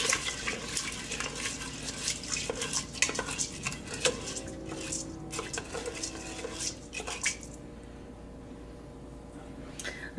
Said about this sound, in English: So let me mix this up.